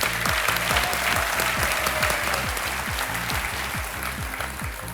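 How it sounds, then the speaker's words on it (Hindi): A studio audience on the quiz show Kaun Banega Crorepati claps loudly and steadily over a pulsing musical beat with low rhythmic thumps. "तालियों के साथ आपका हम स्वागत करते हैं।"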